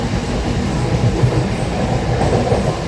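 A MEMU passenger train rolls along the rails with a loud, continuous rumble and rattling carriage noise, heard from inside the coach.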